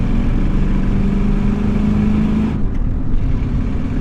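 A 2006 Dodge 2500 truck with a 5.7 Hemi engine drones steadily, a loud close engine hum with a rising tone that cuts off briefly near the end.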